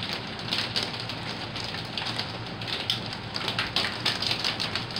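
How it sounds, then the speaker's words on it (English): Rain falls steadily on a rainy day, a dense, close hiss with scattered louder patters and drips, continuous throughout and with no voices. "This is obviously a rainy day"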